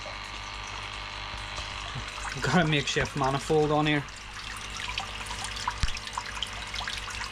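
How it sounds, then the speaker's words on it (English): A small pump trickles fresh water into a koi egg tank through a makeshift manifold, a quiet steady flow beneath a man's close speech. "I've got this little pump on here, fresh water in here every day"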